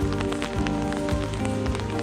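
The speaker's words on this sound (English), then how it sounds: "I thought we'd walk down here in this horrible rain." Heavy rain pours steadily onto a garden, a dense continuous hiss with scattered drop patter close by, no voices.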